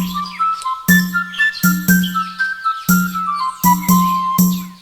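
A magic pipe plays a bright, wavering melody in a fairy tale, loud and close, with short phrases broken by repeated low thumping accents.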